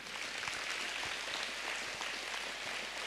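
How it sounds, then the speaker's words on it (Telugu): A school hall audience applauds in a dense, even wash of clapping that is steady and fairly distant, with no talk over it. "good round of applause"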